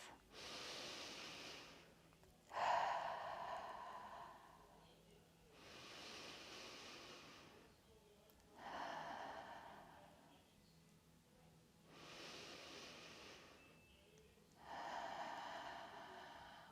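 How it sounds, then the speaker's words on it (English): During a chair yoga session, a person takes slow, deep breaths in through the nose and out through the mouth, about four or five even cycles, each a soft, airy rush with quiet gaps between. "Take 4 deep, even breaths in the nose and out the mouth."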